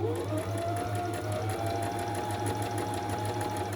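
A sewing machine stitches fabric with a fast, even mechanical chatter and a rhythmic low hum, close and continuous throughout with no pauses.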